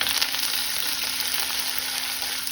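Curry leaves with pieces of green and red chilli roasting in a hot pan, a steady close hiss and crackle of oil sizzling continuously throughout, with no voices.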